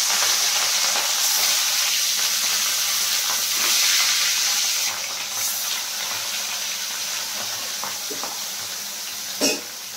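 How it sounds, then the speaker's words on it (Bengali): Katla fish frying in hot oil, heard as a steady close bright sizzle and hiss that eases slightly toward the end, with one sharp clatter near the finish. "এখন দেখো বন্ধুরা, আমার তেলটা গরম হয়ে গেছে। আমি এই মাছটা হালকা করে ভেজে নেব।"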